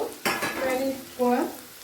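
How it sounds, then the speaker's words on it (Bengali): Chopped onion, fried lightly golden for a butter pepper chicken dish, sizzles in a pan while two short bursts of stirring scrape through, with faint tonal ringing in between. "পেঁয়াজটা হালকা লাল করে ভাজা হয়ে গেছে"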